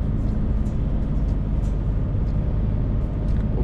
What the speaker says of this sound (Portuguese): Ó, de novo, ó, use freio motor.